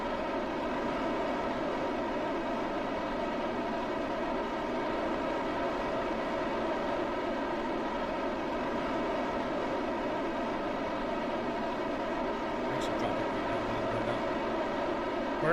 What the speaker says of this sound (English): I forgot how loud the engines were.